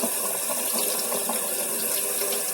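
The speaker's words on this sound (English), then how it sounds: "I'm going to give the water a minute to run over the pasta" Tap water runs steadily over cooked pasta in a colander, a continuous close hiss and splash with no talking.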